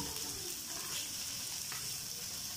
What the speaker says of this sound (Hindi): इसको तेज़ आग पे हल्का सा फ्राई कर लें